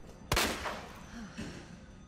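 A single loud gunshot in Resident Evil 2 Remake, fired at a zombie's leg, hits sharply near the start and fades with a reverberant tail, followed by a fainter thud.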